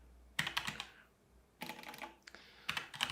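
Fingers tap a computer keyboard in three quick bursts of close, quiet keystrokes separated by short pauses, with no voices.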